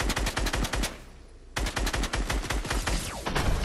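Rapid automatic gunfire in an online video game bursts steadily and loudly, with a brief lull before the shooting resumes and continues dense to the end, with no talking.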